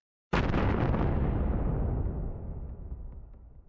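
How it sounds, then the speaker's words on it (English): A large explosion booms in a single sudden blast, then rolls away in a long, fading rumble, heavy and distant in character, with no other sounds around it. "the moment was interrupted by a large explosion that rang out in the distance"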